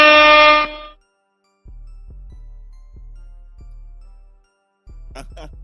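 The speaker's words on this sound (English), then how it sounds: "You get the air horn for it." A loud, brassy air horn blast opens, followed after a pause by a string of dull rhythmic thumps and a few short bright jingles.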